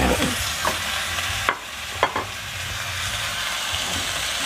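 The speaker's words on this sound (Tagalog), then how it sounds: "Medyo halu-haluin natin." Pork leg (pata) frying in a pot for humba, with a steady sizzle and a few sharp scraping clacks of a utensil stirring the meat, close and clear with no talk.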